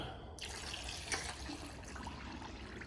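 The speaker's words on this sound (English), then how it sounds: "So we'll whack a bit more water in that." Water is poured into the tank of an ultrasonic cleaner in a steady, close splashing stream that runs throughout without pause, with no talking.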